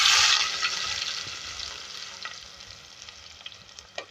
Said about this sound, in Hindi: सबसे पहले हमने पतीले में ऑयल लिया है हाफ कप और उसके अंदर 2 मीडियम साइज की प्याज ऐड करेंगे।